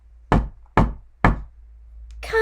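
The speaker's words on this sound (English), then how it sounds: "The wolf raced to the cottage and knocked on the door." Three loud, evenly spaced knocks on a cottage door ring out alone, each one sharp and resonant against near silence.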